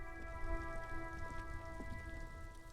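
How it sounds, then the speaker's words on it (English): Steady rain falls in the video game Disco Elysium, a constant soft hiss with faint sustained tones beneath, heard alone without voices. "Stuck in the rain."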